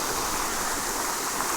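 Water drains and pours steadily out of a large pond, a continuous rushing splash with no break, close and fairly loud, and no one speaking.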